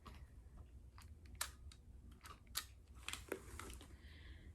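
Clicks and small mechanical clatter from handling a vintage film camera, several sharp, close taps and snaps spread unevenly over a quiet hum, with no talking.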